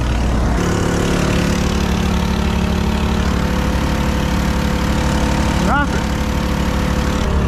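A 1980 Kenworth picker truck's diesel engine runs steadily at idle after starting, a loud, continuous low rumble with one brief whistling squeal near the end.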